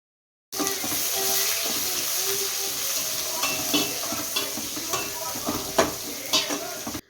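Chopped onion frying in oil with anise and star anise in a pan, a continuous crackling sizzle close by, with occasional spoon scrapes and clinks against the pan.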